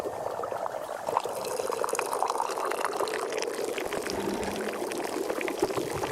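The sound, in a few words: pouring tea into a cup in the video game Wanderstop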